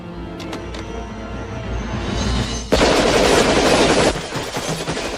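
Sustained automatic gunfire erupts in a tense film shootout over a ransom handoff near the boss's Rolls, rapid bursts building and then a loud dense volley of shots dominating before easing off.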